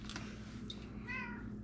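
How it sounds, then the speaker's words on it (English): A pet cat gives a single soft meow near the end of a quiet indoor room. A faint steady hum continues underneath. "There's my kitty. I think she wants to be in the video."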